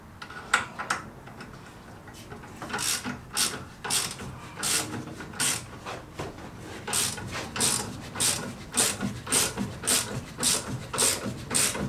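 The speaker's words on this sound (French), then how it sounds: "Là, je resserre ça vite fait avec un cliquet et c'en est terminé." A hand ratchet tightening the front shock absorber mount on a Renault Twingo 1, with rapid bursts of clicking pawl strokes in an irregular rhythm, close and clear.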